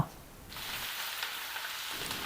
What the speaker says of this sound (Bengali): এখানে আমি একশো গ্রাম সর্ষের তেল দিয়ে দিলাম দু চামচ কুচানো রসুন দিয়ে দিলাম আর দিলাম এক চামচ কুচানো আদা